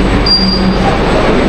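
A Kolkata Metro train on the Orange Line at Barun Sengupta station, a loud continuous rumble of the moving train with a brief high wheel whine, heard from on board.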